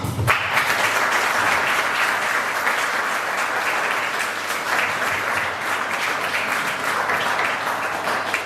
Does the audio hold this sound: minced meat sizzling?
no